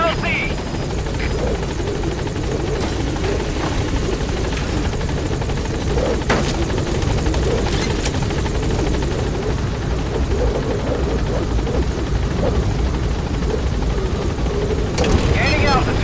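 A helicopter flying in Metal Gear Solid V: The Phantom Pain: a loud, steady rotor drone that holds for the whole stretch, with voices faintly present beneath it.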